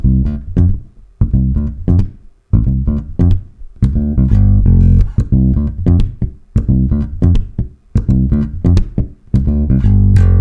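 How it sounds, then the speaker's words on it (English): A Spector Woodstock Custom electric bass plays a loud, warm groove of repeated plucked notes with short pauses between phrases, no voices. "I want to do nothing to this bass other than play it."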